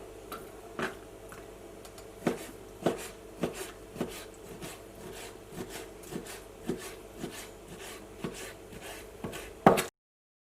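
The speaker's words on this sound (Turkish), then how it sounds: "Şimdi tavuklarımı küçük küpler halinde keseceğim." A knife cuts chicken into small cubes on a board, making a series of close, irregular chops at an unhurried pace, with a louder knock at the end.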